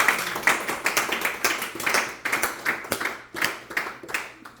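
A church congregation claps in steady rhythm to acclaim the Lord during morning prayer, the full, roomy claps landing about twice a second and continuing without pause or voices.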